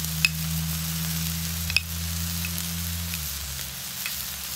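Butter sizzles steadily on a hot griddle while a Cajun crawfish burger warms, with a constant close hiss and a couple of sharp metallic taps.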